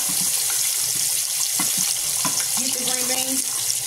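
Water poured from a tap or jug into a cooking pot for green beans with chicken base, a steady broadband rush running the whole time with a rising pitch as the pot fills, some clinks and faint voice underneath.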